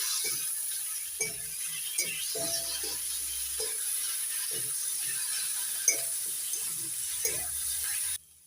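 Fried potatoes being stirred with green and red chili paste in a pan, giving a soft continuous sizzle with intermittent scraping and light clinking strokes close by, ending abruptly.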